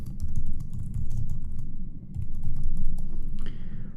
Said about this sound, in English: And I'll just quickly type these other two.